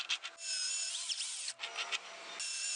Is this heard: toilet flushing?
no